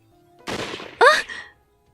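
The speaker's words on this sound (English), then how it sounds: "The crack of a gunshot sounded again, closer this time" Gunfire in the video game Hakuoki: Kyoto Winds, set in a forest, two sharp cracks in quick succession, the second sharper with a ringing metallic edge, followed by silence.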